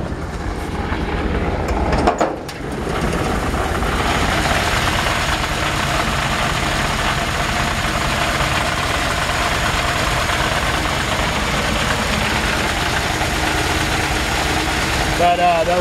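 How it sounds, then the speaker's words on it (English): 1951 Ford F1 pickup engine idling with an old, worn belt adding a slight vibrating buzz, a steady close rumble throughout, briefly dipping near the start. "That little vibration sound is actually the sound of the belt."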